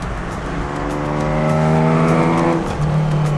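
An old Ford Capri lapping a race track, its engine note rising steadily under load before a sharp drop around a gear change, then pulling again, loud and close with no talking.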